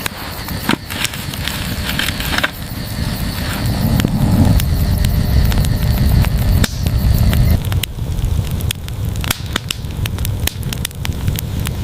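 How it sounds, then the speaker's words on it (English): A pine wood campfire burns outdoors, its steady roar broken by frequent sharp crackles and pops at close range, with no talking. "Once the kindling catches, you must feed the flame slowly, ensuring airflow to the center of the structure."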